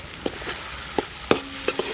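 Tomato puree sautéing in oil in a pan for undhiyu, heard as a low sizzle broken by several short, sharp spoon-scraping knocks and stirring sounds, close and fairly quiet, with no talk.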